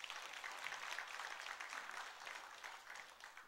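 Church congregation at a Sunday service applauds in a soft, distant, continuous patter that slowly fades toward the end.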